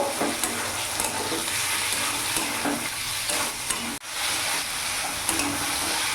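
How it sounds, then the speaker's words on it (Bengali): Pieces of chicken sizzle and hiss in a hot pan for a dhaba-style egg chicken tadka, with steady frying noise and stirring scrapes, one brief sharp knock partway through. "চিকেনটা কিছুক্ষণ ভাজা ভাজা করে নিয়েছি।"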